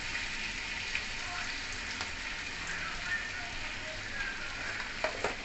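Whole cloves, cardamom, cinnamon and cumin seeds frying in oil for paneer butter masala, giving a steady close sizzle with soft crackles and a few brief stirring clinks.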